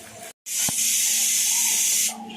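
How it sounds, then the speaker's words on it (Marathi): Onions frying in a pan for homemade chicken biryani give a loud, close, steady hiss lasting about a second and a half after a brief silence, with no talk. "अशा प्रकारे फ्राय करून घ्यायचा आहे कांदा"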